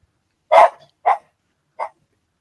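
A dog barks three times, sharp and fairly close, at a broken rhythm with short gaps, each bark loud and alone with no talk around it, indoors while model painters work on a 1/48 Spitfire kit.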